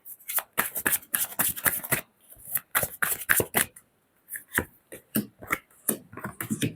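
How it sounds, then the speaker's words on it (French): Oracle cards from a mirror-themed deck being shuffled by hand, a close series of quick papery riffles and flicks coming in bursts with short pauses between them, no voices. "Je vais tirer 3 cartes de l'oracle des miroirs."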